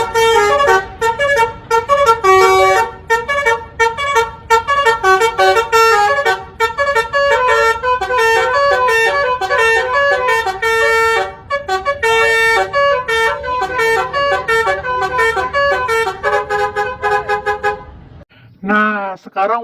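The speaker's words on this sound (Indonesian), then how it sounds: "Next, bus telolet Basuri warna oranye guys." A Basuri telolet horn on a bus blares a loud, close melodic sequence of rapid tooting notes that repeats almost continuously before cutting off near the end.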